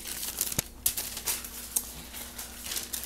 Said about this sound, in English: I know that rattling in the paper sounds very loud